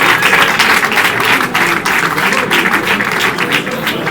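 At a football awards ceremony, a crowd applauds FC Dieppe player Adama Sidibé with loud, close, dense clapping that holds steady for the whole stretch, slightly stronger at the start.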